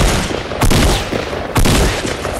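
Two loud shotgun blasts about a second apart in Fortnite Battle Royale, each a sharp broadband crack with a short decaying tail over a steady game background.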